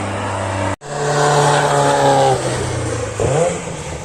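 Cars at the Nürburgring circuit in Germany pass by with a steady engine roar, a brief cut, then a loud continuous drone with shifting revs and another car approaching near the end.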